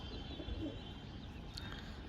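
Pigeons coo softly somewhere in the background, a faint low murmur of bird calls over steady ambient noise.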